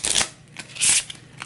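A deck of cards for the Cthulhu: Death May Die board game is shuffled up close, with two or three quick riffling bursts separated by brief pauses.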